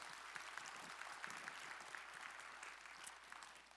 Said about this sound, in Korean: 우리 찬양을 받으실 우리 주님께 영광의 박수 올리겠습니다